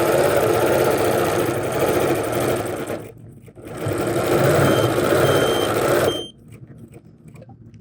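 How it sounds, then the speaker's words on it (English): A sewing machine whirs loudly and steadily while double-stitching a fabric strip, pausing briefly twice, with a repeated beeping like a reversing alarm sounding alongside it. "You hear that beeping?"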